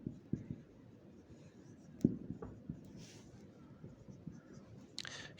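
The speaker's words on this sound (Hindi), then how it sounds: "तो इन सिंपल वर्ड्स हम लिखेंगे" Chalk or pen writing on a board during a geography class, heard as soft scratches and light taps at an uneven pace, quiet and close, with a sharper tap partway through and no speech.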